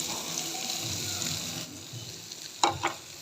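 Peas and carrots toast in a pan for a chicken corn soup, giving off a steady, close sizzle that fades near the end, followed by a couple of sharp clinks of a spoon against the pan.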